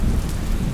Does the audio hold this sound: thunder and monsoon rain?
yes